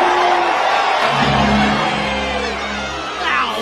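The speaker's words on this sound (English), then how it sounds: "Oh, look at them cheering that little pipsqueak." A large crowd cheers and roars continuously at close range for an excited royal announcement, with whoops rising over a dense wash of voices.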